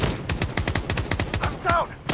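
Rapid automatic gunfire from the video game Blood Strike rattles on without pause in close, steady bursts, with a brief voice breaking in near the end.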